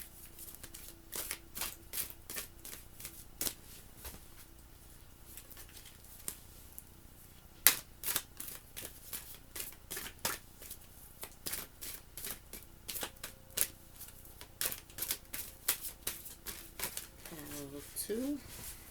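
Wisdom Keepers Oracle cards being shuffled by hand, a long run of crisp rapid riffling flicks and slaps, close and fairly loud, with a voice talking faintly at the end.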